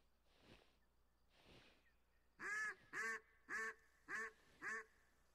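A duck caller in the hunting video game Way of the Hunter, two soft breathy puffs followed by five loud, evenly spaced nasal quacks in a quick series, close and clear against a quiet background.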